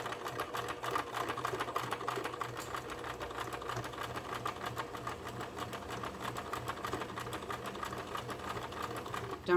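A sewing machine stitching a burp cloth runs continuously with a rapid, even mechanical chatter, close and steady for the whole stretch.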